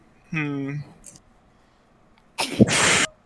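A sharp sneeze bursts out near the end, after a brief voiced sound earlier, in an otherwise quiet room.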